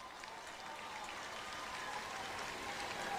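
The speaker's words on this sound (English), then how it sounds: "You hear the cheers from the crowd." Crowd at a Grenada versus Jamaica international football match cheering in a stadium, a steady distant roar with broadband hiss holding throughout and rising slightly toward the end.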